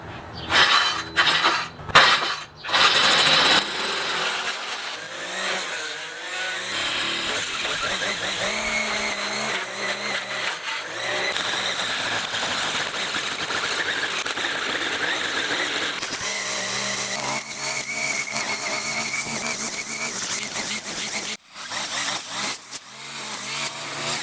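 An ECHO string trimmer fitted with a Speed Feed 400 head runs outdoors, its high engine whine rising and falling with sharp bursts of cutting and debris noise, then dropping away near the end.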